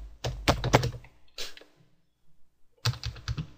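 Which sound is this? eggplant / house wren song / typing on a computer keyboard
typing on a computer keyboard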